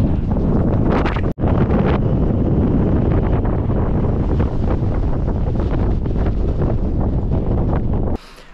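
Strong wind blows across sea dunes near the shore, a loud, continuous roar and buffeting that fills the whole stretch, with one brief dropout early on.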